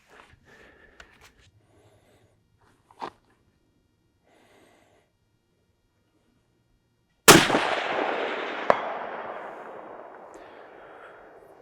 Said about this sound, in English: We're going to go and try and shoot it at distance and see how it does.